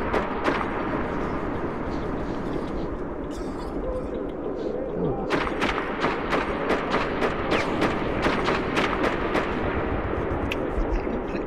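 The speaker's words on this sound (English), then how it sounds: "Stop with the stray bullets, they scare the crap out of me." Stray gunfire in the shooter game Metro 2033, dense rapid shots crackling loud and close over rumbling combat noise, with a voice talking over it.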